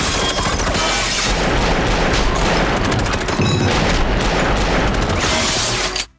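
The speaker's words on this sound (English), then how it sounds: "I can count 12 or 13 shots, which is actually the capacity of the magazine" Rapid, dense volley of Beretta 81 pistol shots in a nightclub shootout from the film Scarface, a dozen or so loud cracks overlapping with echoes and crashing debris, continuous for about six seconds before cutting off.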